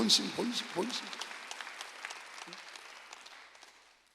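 A congregation at a Korean church Sunday service claps together, the applause swelling briefly and then thinning out and fading away; a pastor's voice is heard at the start.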